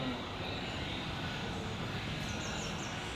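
A plane in the PUBG mobile game drones as a steady, fairly faint engine hum throughout, with people talking lightly over it.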